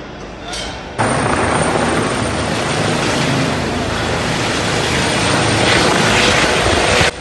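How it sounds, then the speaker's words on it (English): A helicopter on the pitch at a football ground before a Wycombe against Blackpool match, giving a loud, steady rotor and engine roar that holds for several seconds and drowns out other sound. "there is a helicopter on the pitch and the game may not go ahead"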